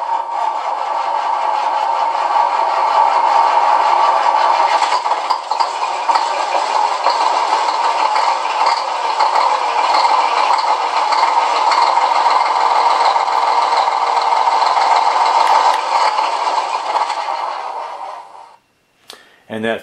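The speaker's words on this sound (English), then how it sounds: "Really looks great with the sounds when the engine's starting and the lights are flickering" A loud, steady simulated semi-truck engine rumble with a rattling buzz from an RC sound controller in a Tamiya truck runs for a long stretch, then cuts off abruptly near the end, followed by a click.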